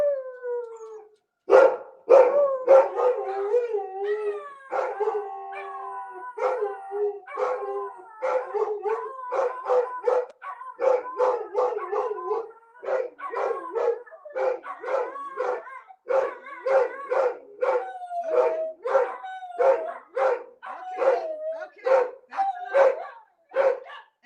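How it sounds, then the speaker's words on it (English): A neighbor's dog howling and barking nearby, long wavering howls giving way to a rapid series of yips and barks, loud and alone in an otherwise quiet setting. "And now the neighbor's dog is going off."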